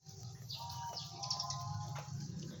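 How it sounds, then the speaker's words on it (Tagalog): A bird calls with chirps and tweets outdoors after rain, moderately near, over a low background hum. "Look at the bird oh."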